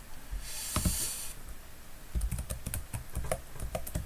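Python code is typed on a computer keyboard in irregular bursts of crisp, close key clicks, with a brief hiss early on and quick clusters of taps toward the end.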